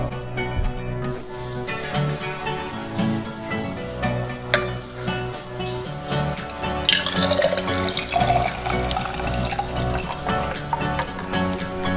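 Chocolate milk pours over ice in a cup, a continuous close gurgling trickle with clinks of ice and a few splashes near the end. No speech.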